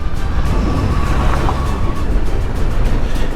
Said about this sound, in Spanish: Hay coches, vienen coches.